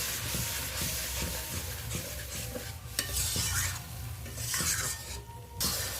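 Spice paste sautéed in oil over low heat, with continuous soft sizzling and hiss and the occasional scrape and clink of a spatula against the pot.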